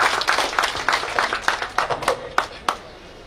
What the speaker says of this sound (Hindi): जोरदार तालियों के साथ सबका स्वागत है